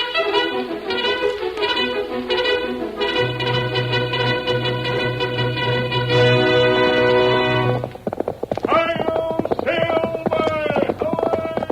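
Galloping horse hoofbeats from an old radio drama's sound effects clatter in a rapid, steady rhythm under loud orchestral music and an announcer's voice.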